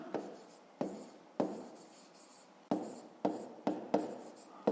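Handwriting on paper while working a 5th-grade math exercise, heard as a series of short close scratchy strokes with brief pauses between them, quiet and without speech.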